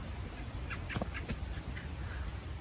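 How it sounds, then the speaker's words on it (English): Several birds in a yard give short, agitated calls as someone walks through near their cover, a few faint chirps and squawks bunched in the middle over steady outdoor background noise. "all the birds are unhappy that I'm coming where their cover is"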